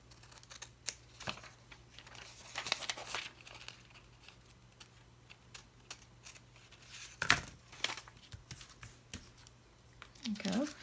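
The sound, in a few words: trimming paper for a junk journal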